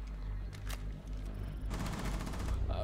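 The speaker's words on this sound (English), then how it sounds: "Bandit runs out of ammo but is still able to take Razor out with that pistol" Pistol gunfire from a Rainbow Six Siege esports match crackles in rapid bursts among other game sounds, getting denser and louder in the second half.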